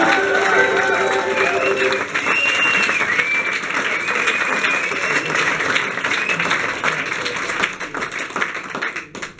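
Audience applauds a keyboardist at a band's premiere concert in the Straßhofer Kellertheater, dense sustained clapping from a full room with cheers and a lingering tone at the start, tapering near the end.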